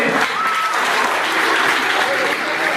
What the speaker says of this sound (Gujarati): ટીમને આપણે સૌ તાળીઓથી વધાવી દઈએ.